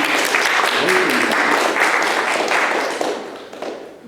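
An audience at a cultural history lecture breaks into dense, sustained applause that holds steady, then thins and tapers off near the end.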